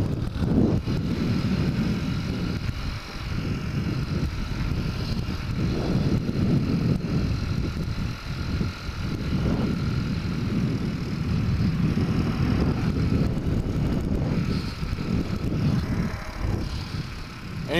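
Suzuki DRZ 125 pit bike engine droning steadily while riding, with wind buffeting the microphone, loud and continuous.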